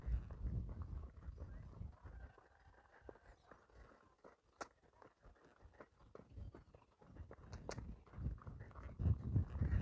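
Horse hooves clop in an uneven run of soft and sharp hits on a riding lap during training, moderately close and fairly quiet, with the rider occasionally making faint sounds.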